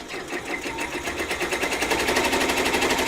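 An embroidery machine stitches a brick pattern in a fast, steady mechanical rattle, the needle's rapid repeated strokes close and loud throughout.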